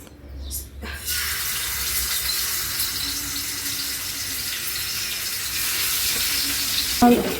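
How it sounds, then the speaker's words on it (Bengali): Hilsa fish pieces frying in oil in a pan, a loud, dense, continuous sizzle that starts abruptly after a brief quiet moment and holds steady, close by, with a short clatter near the end. "আগে আমি এখন মাছটা ভেজে নিই তারপরে তরকারিটা রান্না করব"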